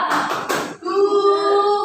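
Group clapping game in a seventh-grade classroom: a quick burst of hand claps from the class, then a sustained chanted shout, all close and loud.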